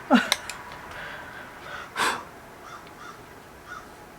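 A bird calls loudly outdoors, a couple of sharp harsh caws at the start and another mid-way, with quieter calls trailing off in the background.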